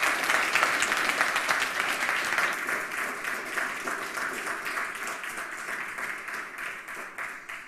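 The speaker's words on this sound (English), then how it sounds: "please give her a round of applause" Sustained audience applause fills a conference hall at the Chaos Communication Congress (27c3), dense and steady at first and gradually thinning toward the end, with no talking over it.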